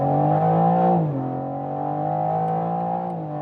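BMW M4, a rear-wheel drive car, pulls hard on a dry road from about 50 km/h. Its engine note climbs steadily and loudly, drops briefly at a gear change near one second, then keeps rising. No one speaks.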